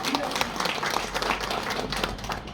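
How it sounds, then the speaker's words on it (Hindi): A seminar audience claps for the chief guest, brisk, scattered applause heard close throughout, with a voice speaking over it. "एक बार जोरदार तालियां।"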